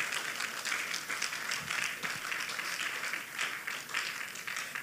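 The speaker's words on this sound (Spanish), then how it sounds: "le diera ese aplauso más fuerte al Señor" A church congregation applauds, a steady crowd of hands clapping continuously and evenly at moderate loudness, with no voices rising above it.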